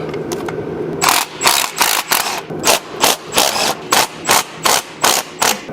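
A ratchet wrench works loose bolts on a classic Jeep Wagoneer transmission, with rapid rhythmic clicking in short repeated bursts, close and loud.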